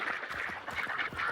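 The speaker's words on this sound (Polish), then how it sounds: "I z lewej i z prawej są kaczki, więc uwaga." Ducks quack repeatedly in Hunt: Showdown, a rhythmic series of nasal calls on both sides, fairly close and moderately loud over a steady ambient background.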